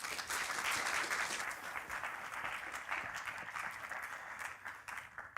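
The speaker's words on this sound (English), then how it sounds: "A great round of applause, please." A crowd applauds steadily for several seconds, dense clapping that stays full and even with no voices, tapering only slightly toward the end.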